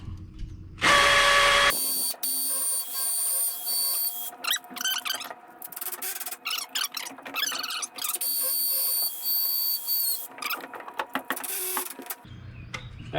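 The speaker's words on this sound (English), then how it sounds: "The only real difference is you're going to drill 2 holes" A power drill bores holes for Tapcon concrete screws to mount an electrical box, whining in several bursts of steady high-pitched spinning with pauses and clatter between, fairly close and without any talk.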